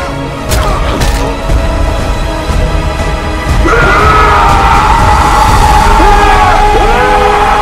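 A man's long, loud primal scream of rage, sustained and strained, rising after some shouted noise and holding for several seconds at close range.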